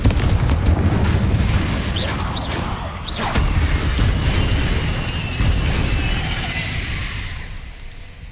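Loud, sustained blast of the Confringo explosion spell in Hogwarts Legacy, a rumbling burst with whooshing bright flares that stays dense for several seconds before fading near the end.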